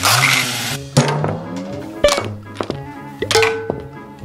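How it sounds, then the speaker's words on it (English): Noisy sawmill machinery in a Thomas and Friends cartoon: repeated loud clunks, thuds and metallic clinks ring out in an irregular rhythm over a low mechanical hum, up close and with no voices. "This is the sawmill."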